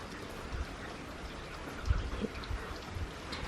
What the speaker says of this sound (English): But it's raining. Look at it.